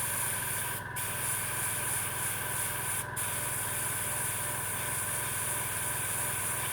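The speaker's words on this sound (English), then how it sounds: "So I'm going to spray both of them again with my white." An airbrush sprays white paint with a steady hissing spray and a constant compressor motor hum underneath, briefly dipping twice as the flow pauses.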